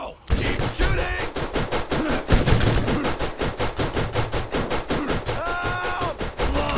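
Sustained automatic gunfire in the video game Borderlands, a dense rhythmic burst of shots at close range, loud throughout, with shouting voices and game effects mixed in.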